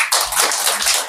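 Audience applause at a Korean presentation event, a short burst of dense, close clapping.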